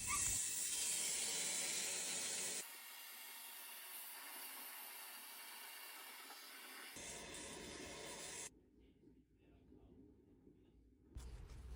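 A Worcester Bosch boiler system fills with water during a leak repair, giving a close, steady rushing hiss that shifts in level and character several times before dropping to a quieter, thinner flow.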